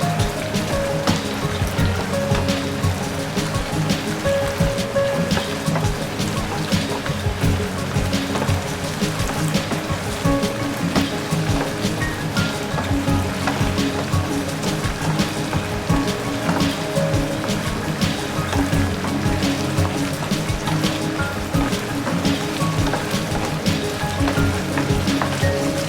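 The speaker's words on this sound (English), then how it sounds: "Soup coming into rice." Soup poured into oyster risotto rice in a pan, a continuous loud sizzling, bubbling wash with a dense patter of crackles throughout, no talking.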